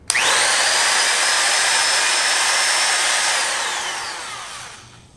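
A corded Dewalt rotary cutout tool starts abruptly and runs at a loud, steady high-pitched whine for several seconds before winding down, heard alone up close.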